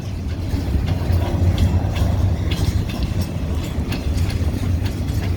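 A freight train hauling log cars rolls past steadily through heavy snow during a winter storm, a continuous loud low rumble with faint wheel clatter throughout.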